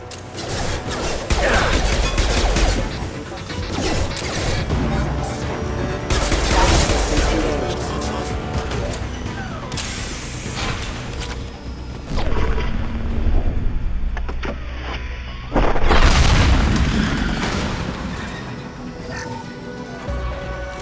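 Heavy weapons blasting tanks in the PC game Mass Effect 2: loud continuous mechanical rumble and gunfire with repeated crashing explosions, a big blast near the end, some game voices mixed under the din.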